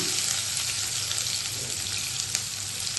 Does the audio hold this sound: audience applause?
no